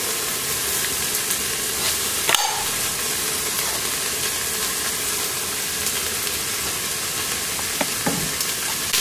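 Chicken pieces fry in a multicooker set to frying mode, a steady dense sizzle and hiss that holds throughout, broken by a few brief knocks and clinks.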